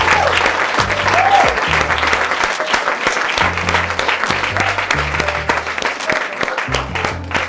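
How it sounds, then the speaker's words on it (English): A women's audience at a live masterclass event gives loud, sustained applause and cheering, dense and close, with background music pulsing underneath throughout. "Give yourselves a massive round of applause"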